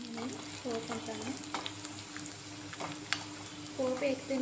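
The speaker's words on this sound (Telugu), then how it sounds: "ఇదంతా బాగా వేగనివ్వాలి ఇవన్నీ" Cumin seeds and five or six dried red chillies frying in hot oil for a sambar tempering, a steady close sizzle with a few brief stirring clatters and a voice talking over it.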